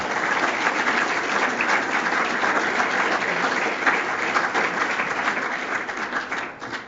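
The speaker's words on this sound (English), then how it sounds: "one more round of applause for our 2013 All-Freshman team" Audience applause at a 2013 men's soccer all-conference awards reception, loud dense clapping sustained throughout before easing slightly at the end.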